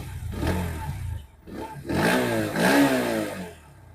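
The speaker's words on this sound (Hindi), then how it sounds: "अब इसे थोड़ा सा रैव करके देखते हैं।" A 2025 Bajaj Pulsar NS125 motorcycle, a 125 cc bike, idles nearby and then gets two quick throttle blips. Each rev rises in pitch before falling back to a low, thumping idle.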